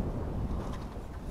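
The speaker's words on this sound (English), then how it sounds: "It is really windy out here today" Steady wind rumbles and buffets the microphone outdoors, a continuous low roar with faint water movement beneath it.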